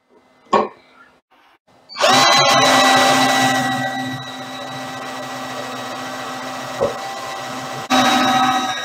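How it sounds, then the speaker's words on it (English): A number 9 drill bit bores through holes for 6 mm screws in a mini lathe carriage part, starting after a couple of brief knocks and running as a loud, steady power-tool whine, with a sharp tick partway and a renewed surge near the end. "what I'm gonna do now is remove all this and drill my through holes"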